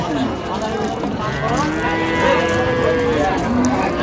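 Dairy cows and calves low loudly and close by at a cattle market in Raniganj, Dinajpur. A long, drawn-out moo carries over steady crowd and market background noise.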